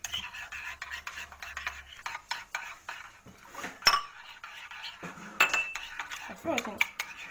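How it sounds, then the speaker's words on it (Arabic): Egg whisked with water in a bowl, with a metal utensil scraping and clinking against the sides in quick, uneven strokes, close and fairly quiet, plus a few sharper knocks. "غادي نخلطهم مزيان هاد البيضه بالماء"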